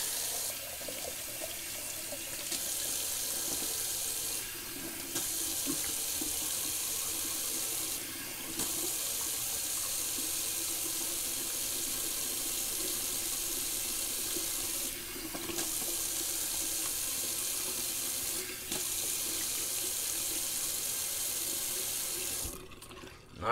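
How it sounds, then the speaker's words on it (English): Water pours steadily from a tap into a sink, a continuous splashing rush that briefly dips a few times before cutting off at the end. "do a little cold water rinse"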